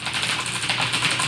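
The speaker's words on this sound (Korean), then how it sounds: "그냥 짤깍짤깍 소리가 나는 키보드이거든요." Steady, rapid clicking of a blue-switch mechanical keyboard, close and crisp, with no pauses or voices.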